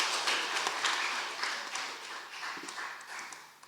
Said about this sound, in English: Jim Devine, give him a round of applause, please.